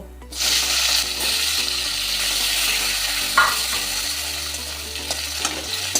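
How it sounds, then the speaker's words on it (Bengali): Raw green banana pieces fry in hot oil for a shukto with ash gourd shoots, a steady loud sizzle that starts abruptly and runs throughout, with a few faint clinks of utensil against the pan. "এবার একটু কাঁচা কলাটা ভেজে নেব"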